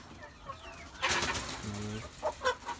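Pigeons coo in soft rounded calls, with a few clucks and other bird sounds close by, moderately loud against a quiet outdoor background.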